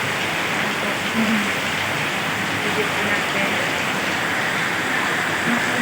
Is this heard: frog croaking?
no